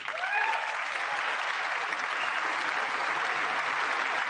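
A large audience applauds steadily throughout at the State of the Union, a dense, loud wash of clapping from a big hall, with a brief voice audible at the start.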